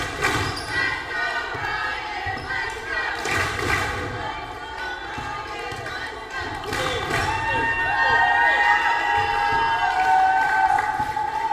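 An arena crowd cheers and murmurs at a one-hour free throw world record attempt, with a basketball bouncing and thudding repeatedly nearby and a voice talking over the noise.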